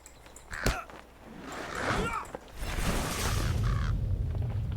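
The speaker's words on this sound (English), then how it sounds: "Sounds like crows." Harsh crow caws ring out a few times amid game sound effects in The Lord of the Rings Online, followed by a deep rumbling boom that swells and lingers.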